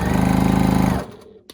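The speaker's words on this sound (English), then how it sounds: "just sew a line down that edge over there" A sewing machine stitches a quilt block seam, a loud, steady rapid mechanical chatter for about a second before stopping abruptly, followed by a faint brief click.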